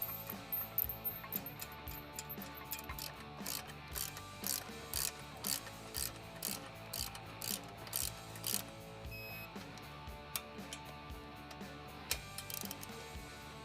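A ratchet tightens the brake caliper bracket bolts on a car, a quick run of short clicking bursts that repeats steadily and sits close and clear, with no voices.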